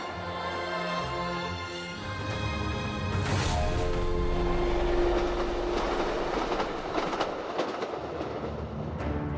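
A train running on the 1,956-kilometre Qinghai-Tibet Railway rumbles steadily, with a rising surge of rolling noise and faint rhythmic wheel clatter, loud and continuous with no voices.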